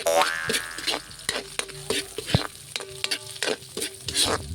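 Ingredients for chicken tinola frying in a pan while being stirred and flipped, with a steady close sizzle, repeated scraping and clanking of the utensil against the pan, and a few ringing metallic knocks.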